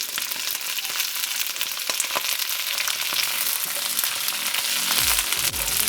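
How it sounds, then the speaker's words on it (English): Chopped garlic, carrots and snow peas sizzle and crackle loudly in a hot pot for a stir fry, a dense steady frying hiss with a few low thumps near the end. "I'm gonna add my carrots and snow peas into the pot"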